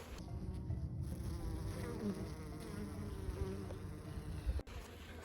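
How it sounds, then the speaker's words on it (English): Honey bees buzzing around an open hive in spring, a dense, steady hum of many insects close to the microphone, continuous and unbroken with no voices. "I just saw a bee with pollen on it"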